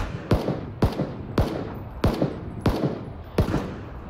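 Rifle fire in PlayerUnknown's Battlegrounds, six sharp, loud shots spaced roughly half a second apart, each with a short echoing tail.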